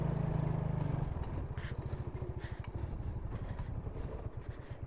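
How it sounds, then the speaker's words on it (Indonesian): A farmer's motorcycle passes along a rural route lined with cassava and banana gardens, its low engine drone steady at first, then breaking into a rapid, rhythmic putter as it nears and moves on. "nih kayaknya motor petani ya"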